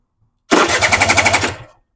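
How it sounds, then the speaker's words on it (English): A Suzuki LT80 quad engine turns over for about a second, a rapid, loud, even chugging that starts abruptly and fades without catching. "So now if Lee then turns the engine over now"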